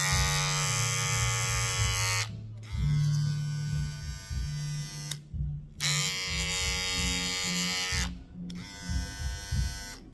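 Wahl Detailer hair trimmer running in loud bursts separated by brief pauses, a steady high-pitched motor buzz with a low hum beneath, close by and without talk.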